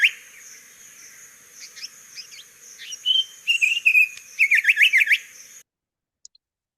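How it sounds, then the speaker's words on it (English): A bird sings a series of bright, rapid chirps and trills, growing louder and quicker toward the end before stopping abruptly. "this is a glossy green bird that makes a delightful sound"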